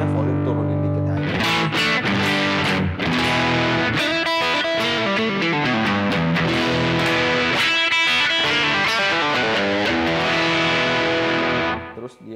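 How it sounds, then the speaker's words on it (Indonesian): A guitar played through a Roland Cube 20GX amp set to its distortion mode, loud and sustained with thick, saturated chords and riffs throughout, no talking, fading out at the very end. "Ini ada mode distorsi, jadi lo bisa di sini langsung distorsi."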